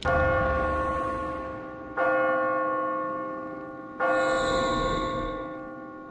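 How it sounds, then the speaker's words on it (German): Church bells rung by pulling a bell rope in the video game Kingdoms of Amalur: Reckoning, three loud, clear strikes about two seconds apart, each one ringing out and slowly decaying into the next, heard alone without talk. "Gehen wir doch mal hoch und läuten die Glocken."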